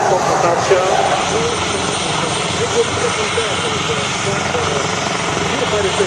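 An Italian Air Force Eurofighter Typhoon jet roars steadily overhead at an air show, a loud continuous engine rumble lasting throughout with slight swells, while people talk faintly beneath it.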